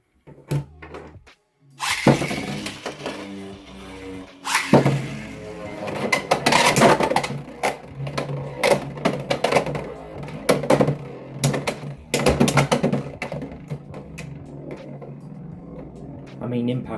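Beyblade X Flame Cerberus battles Hasbro's Impact Drake in a stadium, giving off a rattling metallic whir with sharp clacks of collisions, close and loud, while someone talks over it.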